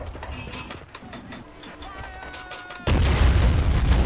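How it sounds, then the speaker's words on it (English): A blue super tank in the Army Men of War game rumbles with mechanical clanking, then a loud, sustained blast of booming noise erupts and carries on to the end. "the blues have some sort of super tank"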